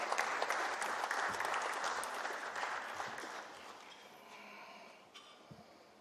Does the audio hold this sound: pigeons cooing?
no